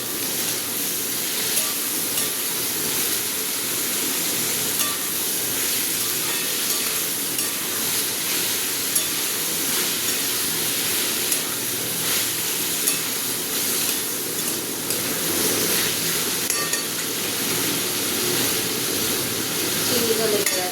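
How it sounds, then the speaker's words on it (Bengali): Potatoes frying with poppy seed and a little turmeric in a pan, a continuous dense sizzle with stirring scrapes, close and steady throughout. "এবার এটা ভাজবো।"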